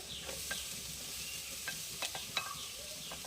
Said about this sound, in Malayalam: സവാള ഒന്ന് നന്നായിട്ടൊന്ന് വഴണ്ട് വരട്ടെ അപ്പോൾ നമ്മൾ സവാള ഒന്ന് വഴണ്ട് വന്നിട്ടുണ്ട്